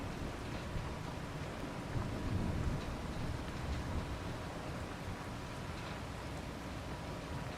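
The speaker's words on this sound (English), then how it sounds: "Oh, it started to rain" Steady rain falling outdoors on a farm, a broad continuous hiss with a low thunder-like rumble swelling briefly near the middle, no voices.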